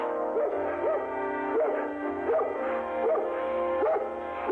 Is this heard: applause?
no